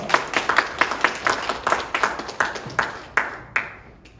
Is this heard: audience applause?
yes